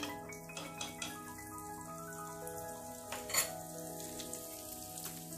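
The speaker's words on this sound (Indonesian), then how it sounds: "panaskan minyak, kemudian diberi 1 sendok makan Blue Band" Blue Band margarine melts in hot frying oil before emping crackers are fried, giving a soft, steady sizzle with faint clinks of a pan and utensil.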